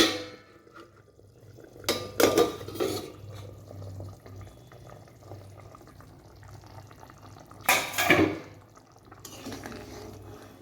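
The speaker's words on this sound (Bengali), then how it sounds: "ঢাকনাটা এবার খুলছি।" A metal lid comes off a cooking pan of simmering potatoes for potol kopta with a couple of short clanks and rattles, close by, over a soft, steady bubbling.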